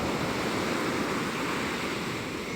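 Waves roll in one after another, forming a continuous, loud rushing wash of water with no voices over it.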